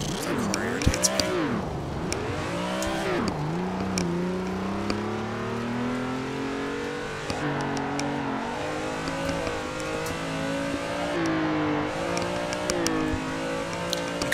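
Car engine in the Assetto Corsa racing game revving and wailing through a drift with handbrake use, pitch sweeping up and down continuously, steady and close, with no talk.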